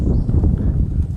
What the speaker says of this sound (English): I love galloping cows.